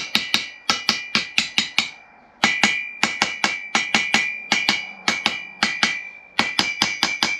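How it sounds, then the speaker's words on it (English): Gentle hammer taps seating an engine cylinder head down onto its dowels, a rapid series of sharp metallic knocks in quick clusters with a ringing tone, close and clear, no talk. "It's little taps, just gently little taps."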